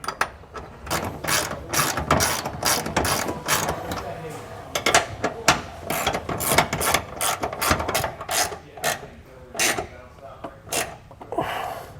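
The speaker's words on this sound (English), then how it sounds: "we're actually just going to be securing this with the self-threading bolts that came in our kit" A hand ratchet drives self-threading bolts into a Lippert Strong Arm jack stabilizer on a 2022 Jayco Jay Feather trailer, giving rapid, close clicking in repeated bursts, with someone talking at times.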